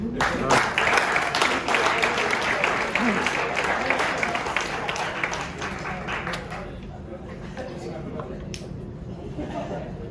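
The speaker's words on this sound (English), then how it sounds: "Clap it up for Alex." Applause fills a high school freshman team's end-of-season party, steady clapping from a crowd that gradually thins, with voices and light laughter mixed in.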